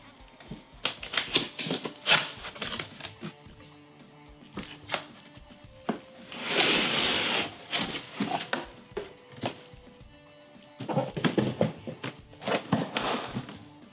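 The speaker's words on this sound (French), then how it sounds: "Nous allons donc commencer par déballer le produit." Gysmi 160P welder being unpacked from its packaging and flight case, irregular tapping, knocking and rustling handling noises with bursts of crinkling, near and moderately loud.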